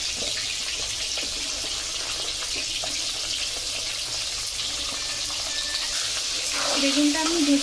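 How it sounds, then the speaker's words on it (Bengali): Eggplant frying in hot oil gives a steady, dense sizzle throughout, growing slightly louder toward the end, with faint clinks and a trickle of water in the background. "বেগুনটা আমি ভেজে নেব, খুব একটা বেশি ভাজার দরকার নেই"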